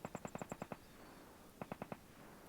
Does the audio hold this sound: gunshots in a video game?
yes